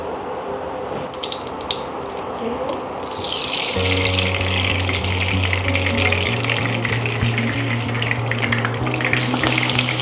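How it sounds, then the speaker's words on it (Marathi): Oil poured into a hot wok for making shrimp-filled karanji dumplings, a sudden loud sizzle starting partway through and holding steady, with faint kitchen clatter before it. "आता मी तेल टाकते"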